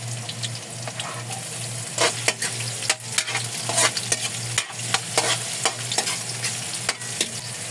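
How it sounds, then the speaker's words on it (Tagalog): Garlic and ginger sauté in hot oil with a constant close sizzle, broken by repeated scraping stirs of a utensil in the pan over a low steady hum from the stove. "Unahin ko lang magisa yung ating bawang. Sunod ko yung luya."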